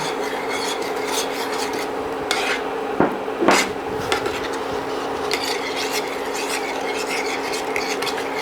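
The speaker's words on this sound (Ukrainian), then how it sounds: "при постійному помішуванні тонкою цівкою вливаємо сюди цукор з пектином" A spoon scrapes and rubs around a pot of soufflé mixture for a cherry soufflé cake while sugar with pectin is poured in. The stirring is close and continuous, with a couple of sharper clinks midway.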